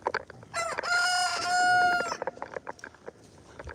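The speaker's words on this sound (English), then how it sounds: "I can't show y'all the roosters." A farm rooster crows once, loud and close, with a long drawn-out call, while scattered clucks and farm noises carry on around it.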